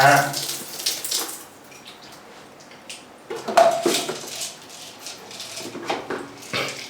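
Water runs from a household shower head with a fairly slow flow, a steady splashing hiss broken by clattering bursts, while someone talks over it now and then.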